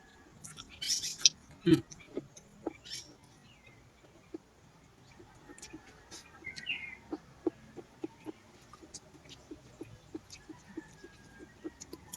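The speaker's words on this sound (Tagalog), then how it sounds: "Maraming ibon sa ngayon." Scattered bird chirps and tweets in the distance on a farm, faint and intermittent, with a few sharper calls near the start over a quiet outdoor background.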